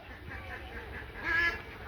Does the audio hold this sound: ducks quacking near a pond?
yes